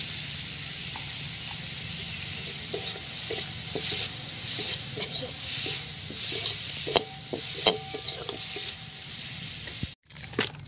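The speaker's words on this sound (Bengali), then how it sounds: "পেঁয়াজটা ভাজা হয়ে গেছে, নামিয়ে দেবো।" Quiet oil sizzle of onions frying with salt and turmeric, with intermittent stirring scrapes and light clinks, steady and low in level, ending with a brief handling bump.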